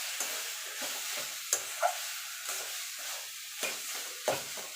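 Grated boiled potato being stirred into a vegetable chop filling in a pan, soft repeated scraping and mixing strokes with a faint sizzle, close and quiet with no voices.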